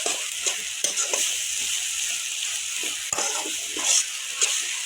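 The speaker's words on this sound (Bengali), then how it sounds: "মশলাটা ভালো করে ভাজতে হবে, তেল ছেড়ে দিলে আমি জল দিয়ে দেবো।" A tomato-laced spice paste for tilapia curry fries in hot oil, a steady close sizzle with scattered scraping and stirring clicks from a spoon in the pan, no voices.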